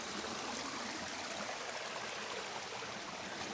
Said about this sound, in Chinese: 你看这个水流，溪水啊，还是非常的清澈